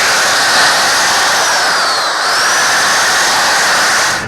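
A Senco autofeed screw gun runs continuously while driving screws into subfloor, giving a loud, steady, high-pitched motor whine close by. Its pitch dips slightly midway, then holds until it trails off at the end.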